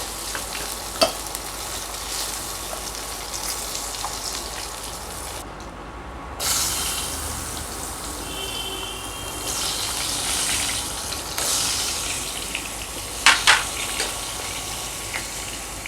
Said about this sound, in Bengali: এবার এগুলো তুলে নেব, নিয়ে এই তেলেই আলু ভাজবো।